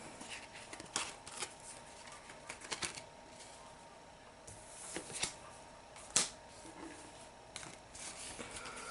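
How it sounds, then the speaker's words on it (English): Playing cards for a Pathfinder Skull and Shackles tabletop game are shuffled and handled close by, soft papery riffles and scattered crisp snaps and taps at a quiet level. "put the octopus back in the deck here"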